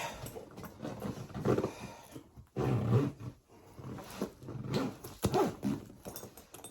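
The zipper on a carry-on travel bag is pulled closed in several quick, rasping strokes with short pauses between them, heard close up with no talking.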